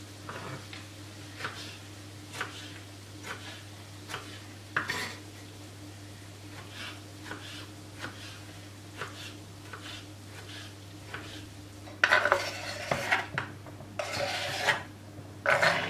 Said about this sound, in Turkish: Domateslerimi de küçük küp halinde doğruyorum.